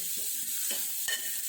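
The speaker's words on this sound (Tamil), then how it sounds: "இஞ்சி பூண்டு இடித்து வச்சுருக்கதையும் சேர்த்து அதோட ரா ஸ்மெல் போகிற வரைக்கும் நல்லா அதை நம்ம வதக்கி விட்டுக்கலாம்." Crushed ginger and garlic sauté in a hot pan while being stirred, a continuous sizzle broken by a few quick spatula scrapes.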